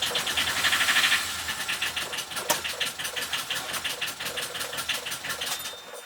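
A boat engine starts and settles into an idle after maintenance, beginning with a rough, loud churn and then a steady, fast mechanical knocking rhythm that stays close and carries on alone.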